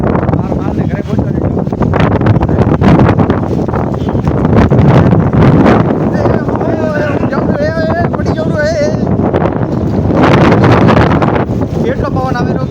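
A strong cold wind blows during a heavy rainstorm in Kharoi village, Gujarat, roaring loud and close against the microphone throughout while a voice talks over it.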